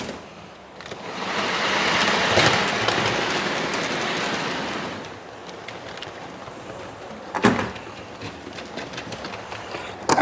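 A model railway steam locomotive running along its track, a rolling, rattling rumble that swells and then fades as it passes, followed by lighter clicks and clatter from the layout.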